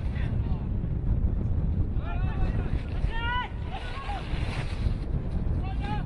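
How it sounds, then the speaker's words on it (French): Wind sweeps across an open football stadium during a France versus Japan under-20 friendly, a steady low rumble buffeting the microphone, with faint distant whistles and calls from the ground above it. "il y a pas mal de vent encore"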